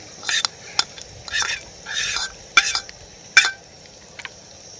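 Onions and green chillies frying in a pan at a camping cookout, heard as a series of loud close stirring scrapes and sizzling bursts roughly every half second over a low background hiss.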